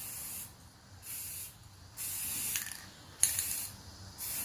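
Rust-Oleum spray can applying a light coat to hot rod wheels, several close hissing bursts of spray in short and longer spurts, with a faint mechanical clicking between them and no voices.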